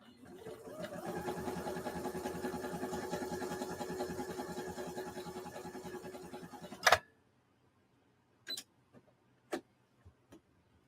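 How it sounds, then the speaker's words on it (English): A sewing machine runs a line of stitching for about six seconds, a rapid, steady mechanical whirr close by. It stops with a clunk, followed by a few scattered clicks in near silence. "I'm going to keep sewing right down next to the line I just sewed, so I have a comparison"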